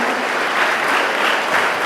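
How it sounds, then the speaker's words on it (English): Loud, close crowd clapping at a school youth parliament competition, a continuous dense roar of many hands that holds evenly from start to finish. "keep clapping. We'll keep clapping"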